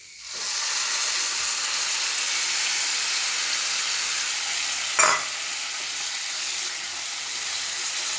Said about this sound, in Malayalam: പുളിവെള്ളം ഒഴിച്ച് കൊടുക്കുക.